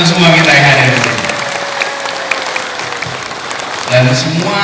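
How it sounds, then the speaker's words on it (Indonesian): A crowd at an outdoor political rally in Garut claps steadily, with a voice speaking over the applause at the start and again near the end. "Boleh tepuk tangan untuk semua kita yang hadir di sini."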